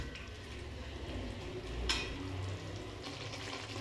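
Fish and eggplant simmer in a bubbling curry gravy in a pan, a soft continuous bubbling sizzle heard close and fairly quiet, with one brief scrape or clink near the middle and no talking.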